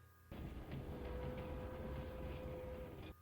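A moving train in a film scene, a steady loud rumble and rattle of rail cars with a faint tonal whine, starting abruptly and cutting off after about three seconds.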